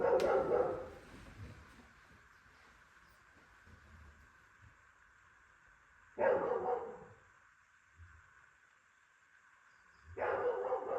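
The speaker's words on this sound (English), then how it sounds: "My dog is making some noise." A dog barks in three separate bursts spaced several seconds apart, loud and close against a quiet room, with no talking in between.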